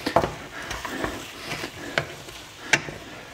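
Rougail graton, crispy Réunion-style pork, is stirred in a frying pan: intermittent scrapes and clinks of a utensil against the pan over a soft sizzle, close and moderately loud.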